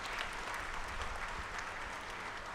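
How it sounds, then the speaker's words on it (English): An audience at a university convocation applauds steadily, a dense even patter of clapping held at constant loudness throughout, with no voices over it. "All of you may please applaud for the degree recipients"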